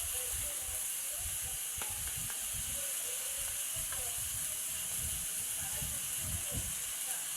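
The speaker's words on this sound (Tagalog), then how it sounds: "Igisa ng kaunting minuto." String beans and eggplant sauté in a hot pan for adobong sitaw with talong, giving a steady, close sizzling hiss throughout with faint stirring clicks and no speech.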